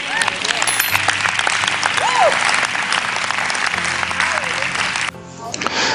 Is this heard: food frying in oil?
no